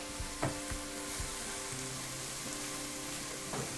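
Shredded carrots and mixed vegetables fry in a pan for a chicken teriyaki dish, giving a steady close sizzle with a few soft stirring knocks and scrapes.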